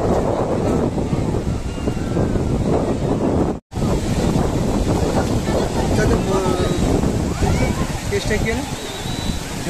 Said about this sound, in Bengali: সামনে তোমার দেখতে পাচ্ছ সুন্দর ঢেউ, আওয়াজও শুনতে পাচ্ছ নিশ্চয়ই।